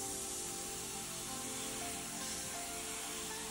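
An airbrush sprays steadily, fed by a Makita MAC100Q compressor, producing an even, continuous hiss with no breaks or voices.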